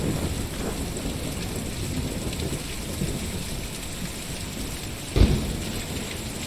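A thunderstorm with steady heavy rain in the video game Kentucky Route Zero, with a dense, continuous rain hiss and a sudden nearby thunder crack near the end.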